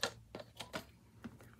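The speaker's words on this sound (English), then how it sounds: "So I'm going to cut some of this up to add to it." Fabric is cut for a master board, a handful of short, quiet snips and clicks in a quick uneven rhythm, close by and alone.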